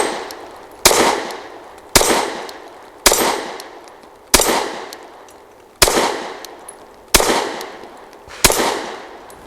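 Shots from a BUL Armory Ultralight pistol firing MagTech ammunition at a moving steel target ring out as a string of sharp, loud, evenly spaced cracks, each trailing off quickly, with no talking.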